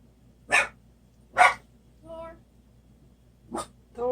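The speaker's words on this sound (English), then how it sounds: "don't bark, please" A dog barks indoors in a few loud, separate barks with gaps between them, mixed with a couple of higher whining yips.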